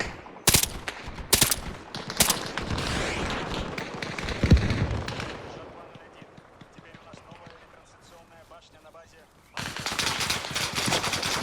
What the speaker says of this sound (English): it sounded like there was more gunshots over there